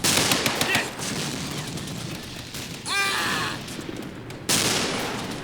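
A mortar fires in the World War II strategy game Men of War: Red Tide. Sharp booming reports and crackling gunfire bursts sit over a dense battle din, close and loud.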